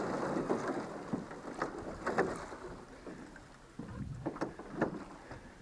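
A small boat pushes through thin ice on a frozen waterway near a snowmobile trail, with a rough continuous grinding and scraping broken by sharp cracking crunches, heard alongside wind buffeting the microphone.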